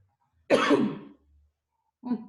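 A single harsh cough or throat clear, close and fairly loud, followed by a short pause and a second, softer burst.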